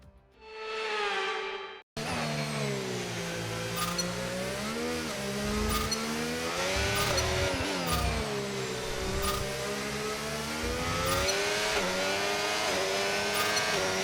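Mexico City race in the F1 25 video game: a brief rising engine whine opens, then a loud, near Formula 1 engine screams continuously, its pitch sweeping up and down through repeated shifts and throttle changes, with no voices.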